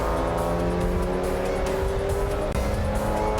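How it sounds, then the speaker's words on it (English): A Porsche race car locks its brakes while heading into a corner during a historic motor race, producing a sustained tyre squeal and skid over loud engine roar, with other race cars audible nearby. "A lockup for Cam McKee-Thompson in his Porsche as he heads into the bowl"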